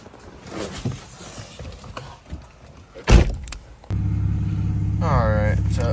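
A car door thuds and rattles, then the engine cranks and settles into a steady, droning idle up close.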